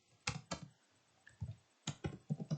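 Code being typed on a computer keyboard, a handful of sharp close key clicks in short uneven bursts separated by brief pauses, with no talk.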